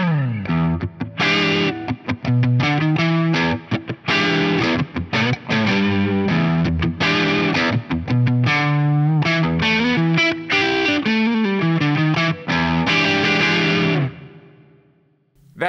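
Electric guitar played through a Gain of Tones overdrive pedal, a loud distorted riff of chords and single notes with punchy attacks, played alone and ending in a fading sustain.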